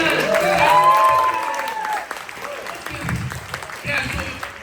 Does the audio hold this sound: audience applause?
yes